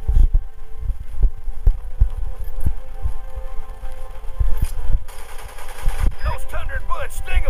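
Gunfire from the GameCube war game Battalion Wars, a steady run of low thudding rifle shots under a continuous droning hum, with a radio-style voice speaking over the battle near the end.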